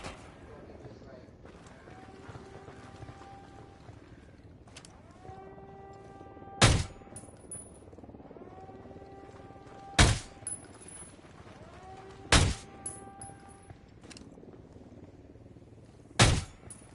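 Four loud, sharp gunshots from Ghost Recon Wildlands ring out at spaced intervals over a quieter game background of tonal hums and faint activity, each crack standing well above the ambience.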